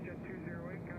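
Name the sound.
airplane, Brad Paisley's plane at Nashville airport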